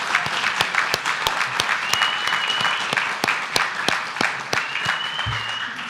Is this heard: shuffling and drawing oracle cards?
no